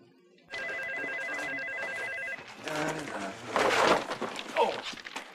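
Telephone call being placed: a steady electronic tone sounds on the line, followed by clicks and muffled voices talking.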